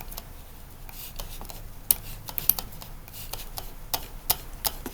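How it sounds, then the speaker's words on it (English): Irregular clicks from a computer mouse or keyboard tap away in the background, sharp and close, scattered unevenly with a few louder snaps. "You probably hear my clicking in the background."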